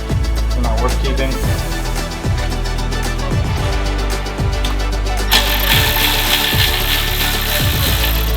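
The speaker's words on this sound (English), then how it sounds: "WRX is warming up right now." A Subaru WRX engine idles steadily while warming up, a loud, continuous low rumble with a regular pulsing beat, joined by a brighter broadband hiss for the final few seconds.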